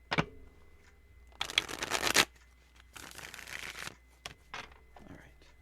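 Playing cards shuffled in a few separate bursts of crisp riffling and flutter, close and fairly loud, with quieter handling noises and pauses in between.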